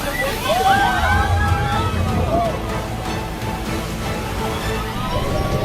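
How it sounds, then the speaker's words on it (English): Waves slamming against the sides of a small boat in a storm at sea, heavy sloshing and churning water with a few high screeching tones early, steady and fairly loud, voices faintly mixed in. "waves slam against the sides again and again, rocking the boat violently, as if it could capsize at any moment"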